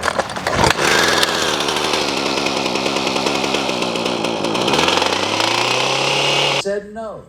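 A Husqvarna, Redmax or Poulan hedge trimmer's small two-stroke engine starts up and runs loud and close with a buzzing, steady drone, then cuts off sharply near the end, followed by a brief voice.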